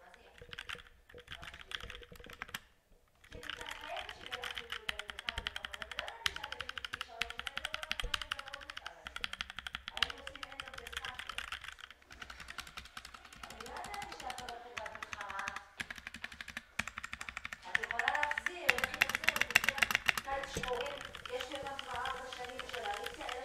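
Fast, steady clacking of keys on a budget computer keyboard, close and continuous for the whole stretch with brief pauses, typed during a sound test at a desk.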